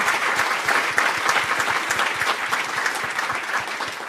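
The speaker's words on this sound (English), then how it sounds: "Can we get a round of applause for the project team and the work done so far?" Dense, steady applause from an audience at a forum panel on First Nations community innovation, honoring a project team; many hands clap together loudly and close for the full duration, with no talking.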